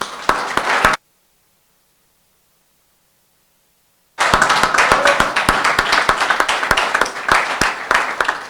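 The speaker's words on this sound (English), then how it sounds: "So I think we can give them a round of applause." Audience applause at a marketing graduation ceremony, with crisp clapping that stops abruptly, leaves a few seconds of total silence, then returns as dense, lively clapping from many hands.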